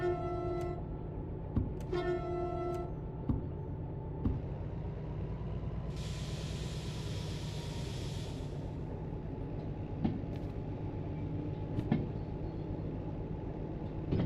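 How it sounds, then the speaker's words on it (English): Train cars being coupled in the railway game Derail Valley: a steady low rumble with scattered metallic clanks and knocks, a few horn-like tonal blasts early on, and a loud air-brake hiss in the middle. No one speaks. "Fixing to hook those trains up"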